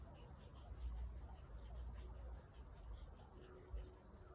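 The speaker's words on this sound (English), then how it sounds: "load up the clay bar, straight lines. Never go round and round in circles, and it's going to sound like sandpaper" A clay bar rubs in straight lines across car paint, making a faint, dry, sandpaper-like scraping in soft repeated strokes.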